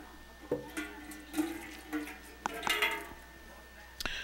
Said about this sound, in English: we just take this apart with our channel lock pliers